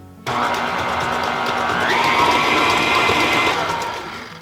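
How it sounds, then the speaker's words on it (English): An electric mixer beats ginger snap cookie dough with molasses until creamy, starting abruptly and then running as a steady, loud motor whine. The pitch rises slightly partway through and the sound eases off toward the end. "we're going to beat these together until they're nice and creamy"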